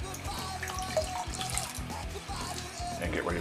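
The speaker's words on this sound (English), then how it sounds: "I'm just going to wet our face." A tap runs steadily as water splashes over hands and face before a shave, a continuous close hiss with small splashing bursts throughout.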